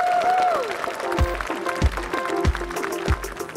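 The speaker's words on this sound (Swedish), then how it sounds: "Vi ger, tycker jag, båda lagen en applåd." Applause for both teams on a game show, with clapping heard under synthetic musical stings and a rhythmic low thudding beat.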